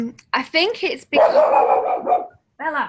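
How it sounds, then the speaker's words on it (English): A pet dog barks several times up close and loud, in quick bursts, while a person talks over it. "Sorry, that's my dog."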